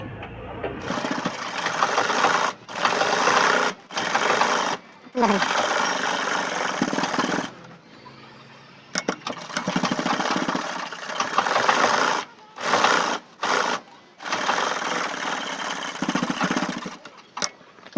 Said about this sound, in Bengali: দুই সাইড শেষ, এখন নিচটা সিলাচ্ছি।